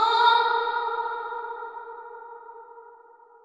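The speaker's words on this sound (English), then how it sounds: "we should have that phrase with a long reverb tail on the end." Vocal phrase soaked in fully wet reverb in Studio One, a sustained tonal wash that swells briefly and then fades slowly into a long, smooth decaying tail with no other sounds.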